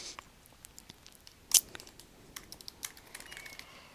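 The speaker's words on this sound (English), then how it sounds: "I can type those keywords into the search bar" Keys tapped on a computer keyboard to enter search keywords, a scattering of quiet, quick clicks close by with one sharper, louder tap partway through.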